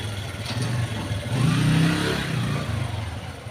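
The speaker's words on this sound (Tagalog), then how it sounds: "Maraming mapasok na motor dito at marami rin motor dyan." Motorcycles pass through a car parts surplus market in Bonifacio, engines revving and swelling nearby, loudest at mid-clip and then easing off over steady street noise.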